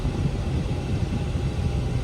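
The engine of a 2017 Mercedes GLE63 AMG SUV idles with a steady low rumble, close and continuous, with no other sounds over it.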